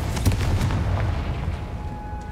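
Confringo fire spell explosion in the video game Hogwarts Legacy: a booming blast with sharp crackling bursts early on, then a sustained rumbling roar that slowly tails off, loud and close, with no talk.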